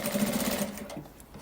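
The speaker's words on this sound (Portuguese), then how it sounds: "o calcador deslizando bem pertinho da cremalheira, a gente vai costurar." A sewing machine stitches a zipper strip with the presser foot gliding close to the zipper teeth, a steady close-up mechanical whir that runs alone without talk.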